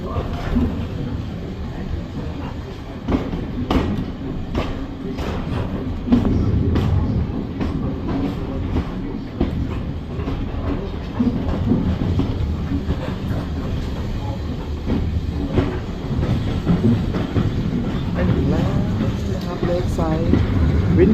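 A steam train rumbles along with a low, continuous clatter of wheels on rails, heard from inside or close by for a long stretch.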